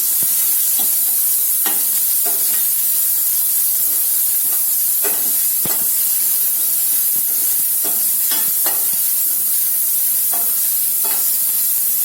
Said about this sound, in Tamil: மீடியம் ஃப்ளேமில் வச்சு நல்லா வதக்கிக்கோங்க.